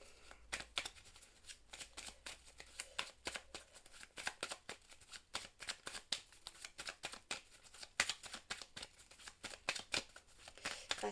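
Belline oracle cards are shuffled by hand in a quick, steady stream of crisp riffling snaps and flutters, close and fairly quiet, with no talking.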